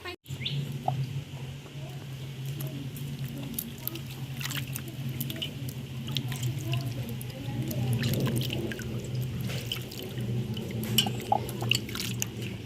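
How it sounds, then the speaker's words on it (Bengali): Raw green mangoes being washed by hand in water: close, continuous sloshing, squishing and dripping, with small splashes rising and falling throughout. "খুব ভালো করে আমগুলো ধুয়ে নেব।"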